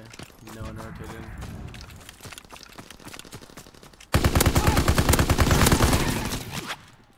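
Video game gunfire in rapid automatic bursts, moderate at first and then a sudden louder stretch of dense continuous shooting, with players talking over it.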